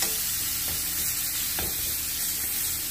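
Beef steak searing in butter and oil, a continuous close sizzle and crackle with faint stirring scrapes, no voices.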